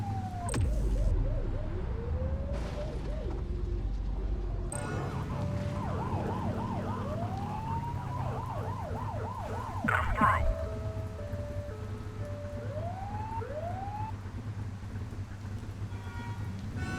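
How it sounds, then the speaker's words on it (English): A wailing police siren in a video game sweeps up and down in repeated rising and falling tones, steady engine drone underneath, with occasional voices. "You're only meant to use the siren in emergencies."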